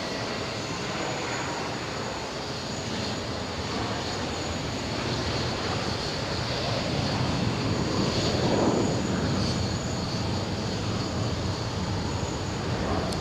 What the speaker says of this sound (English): That one lifting off. Where is it going? Flying to Cancun, Mexico. JetBlue 751.